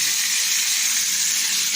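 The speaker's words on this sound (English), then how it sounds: "The sizzle, the magic." Moroccan BBQ ribs sizzle loudly in a hot pan, a steady bright crackling hiss that fills the whole moment without any speech.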